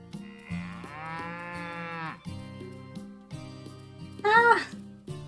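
A cartoonish cow moos in Story of Seasons, a farming game, over a cheerful looping tune; one long low moo comes first, then a shorter higher call near the end.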